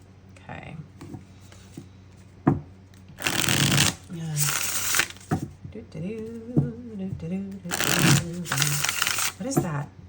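A deck of tarot cards is shuffled in two loud, riffling bursts a few seconds apart, with a person talking quietly in between and after.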